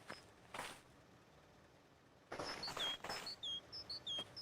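A small bird chirps outdoors near a car on a cold morning, thin high tweets in quick bursts that cluster toward the end, faint overall with a couple of soft scraping or rustling sounds earlier.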